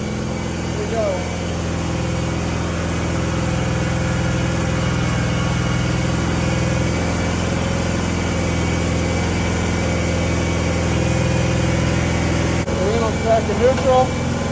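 An Exmark 52-inch Radius zero-turn mower engine runs at half throttle with a steady mid-pitched drone while the hydro drive cycles forward and back, holding constant volume close by, with a person talking over it.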